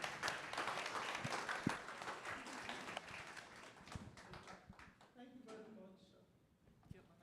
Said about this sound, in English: So we can give them a round of applause, please